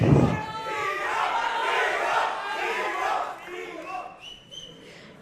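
A large, noisy crowd yells and cheers at a Kannada film industry event for actor Yash, a dense wall of shouting voices that stays loud throughout, with a few high whistles near the end.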